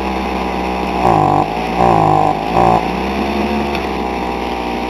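Small two-stroke engine of an old Homelite string trimmer runs with the choke off, a steady buzzing drone broken by three short revs that rise in pitch, close and loud.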